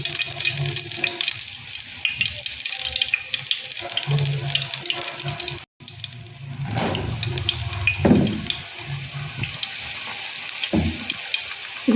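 Spinach leaves coated in gram flour batter are dropped into hot oil for pakoras, giving a loud, continuous close sizzle and hiss with a few soft bumps and clatters.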